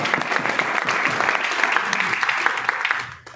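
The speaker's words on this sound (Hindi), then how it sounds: "एक बार थंडर ब्लास्ट के लिए भी तालियां हो जाए" Audience applause for a product called Thunder Blast, a dense steady wash of many hands clapping at a presentation that fades out at the very end.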